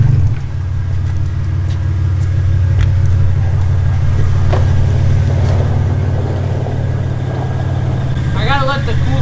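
A car engine idles and rumbles steadily close by throughout, as a vehicle pulls up and parks beside a Nissan SR20-powered car out in the countryside; a brief higher-pitched whine rises near the end.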